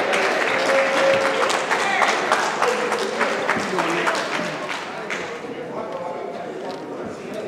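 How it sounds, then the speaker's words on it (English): A crowd claps for volunteers at a school professionalism talk, a lively round of applause that gradually thins and softens, with a speaker's voice and some crowd murmuring audible beneath it. "Clap it up for the volunteers."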